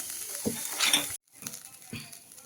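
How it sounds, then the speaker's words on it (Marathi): Hot oil and chili tempering (phodni) poured over cooked chakwat greens sizzles briefly with metal pan and spoon clinks, cuts out abruptly, then resumes as quieter crackling and scraping, close by. "ही अशी फोडणी सगळी घालून घेऊ"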